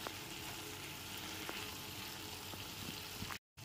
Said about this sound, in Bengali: ক্যাপসিকাম আর পেঁয়াজটা দিয়েও খুব ভালো করে মিশিয়ে নিতে হবে।